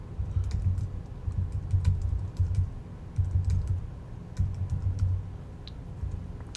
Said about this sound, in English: So all you guys gotta do is type in the URL.